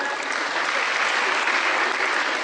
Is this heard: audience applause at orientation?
yes